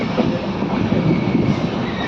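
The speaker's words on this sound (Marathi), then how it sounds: "आता मित्रांनो, तर आपली फायनली गाडी आली आहे कणकवली रेल्वे स्टेशनला" A train arriving at Kankavli railway station on the Konkan Railway rumbles steadily and loudly close by, a dense, continuous roar of wheels on rails with no voices.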